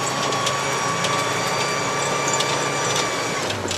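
Engine of a Veter all-terrain vehicle labouring steadily through snow on underinflated wheels while shifting up into third gear, a continuous close drone with no pauses.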